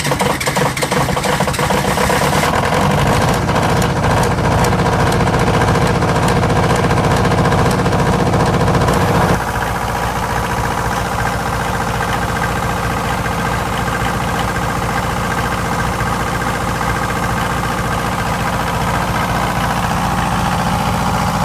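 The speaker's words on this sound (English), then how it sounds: "MEP-003A, an Onan air-cooled diesel generator, starts after 2 months idle at 8 degrees Fahrenheit." An Onan MEP-003A 10-kilowatt air-cooled diesel military generator cranks and catches after sitting idle in 8°F cold, then settles into a loud, steady, rumbling idle.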